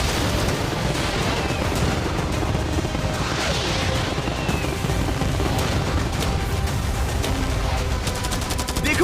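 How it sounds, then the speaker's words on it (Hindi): Cannons, fireworks, arrows and catapults unleashed together in a mock battle, making a dense, continuous barrage of blasts, crashes and crackling bangs that hold at full loudness throughout, with repeated sharp cracks near the end. "मैं चाहता हूँ कि तुम कैनन्स, फायरवर्क्स, एरोस, कैटापल्ट्स सब कुछ एक साथ फायर करो।"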